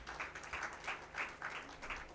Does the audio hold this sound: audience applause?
yes